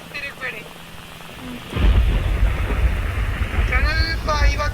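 In the Roblox game Scary Shawarma, a loud thunder rumble suddenly breaks in and steady rain follows, with players' voices talking over the storm.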